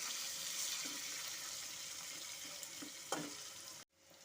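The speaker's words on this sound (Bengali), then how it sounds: "তেলের সাথে ওলকচুটাকে একটু ভালো মতো করে একটু ভাজা ভাজা করে নেব।" Steamed elephant foot yam frying in hot oil tempered with nigella seeds, giving a faint, even sizzle with a few soft stirring knocks and one sharper clack before it cuts off.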